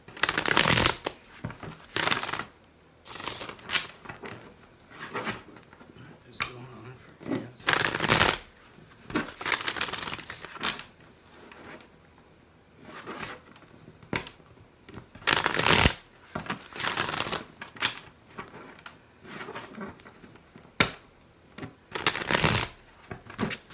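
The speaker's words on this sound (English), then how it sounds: "Three shuffles for Cancer." Tarot cards are shuffled repeatedly in short riffling bursts with brief pauses between, close and moderately quiet, no talking.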